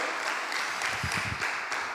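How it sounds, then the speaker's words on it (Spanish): A church congregation claps steadily in a dense, wash-like applause that holds at an even level throughout. "Dele un aplauso al Señor"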